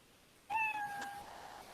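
A cat sprite's programmed meow sound effect, a single clear, fairly close meow rising then sliding down, ringing out alone over faint background hiss.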